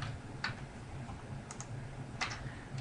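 Quiet typing on a computer keyboard: a few soft clusters of key clicks spaced about a second apart over a low background hum.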